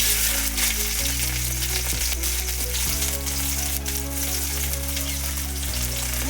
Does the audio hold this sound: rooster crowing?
no